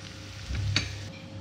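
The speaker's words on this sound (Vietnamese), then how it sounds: "mình chủ yếu là mình đảo để cho cái phần nước mắm nó rút hết vào trong cái sườn là được rồi" Pork ribs stir-fried in fish sauce in a pan, a close, steady sizzle with a brief swell of tossing and scraping in the middle.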